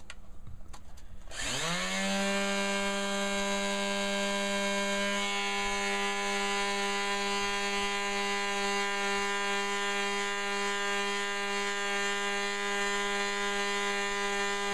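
Wood lathe spun up with a turned piece while sanding, starting with a rising whine that settles into a steady, sustained mechanical hum with strong tonal harmonics, close and alone.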